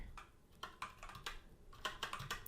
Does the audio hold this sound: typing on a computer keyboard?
yes